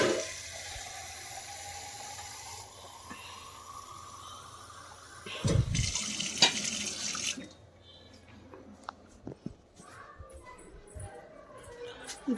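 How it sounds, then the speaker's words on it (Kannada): Water added from a kitchen tap or vessel while cooking sprouted-gram sambar, a steady running gush in the first half with a louder splash near the middle, then quieter clinks and handling sounds. "ನೀರು ಹಾಕಬೇಕು ಅದಕ್ಕೆ ಸ್ವಲ್ಪ"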